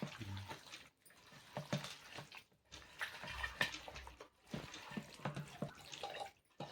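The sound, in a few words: water added to tamarind fish curry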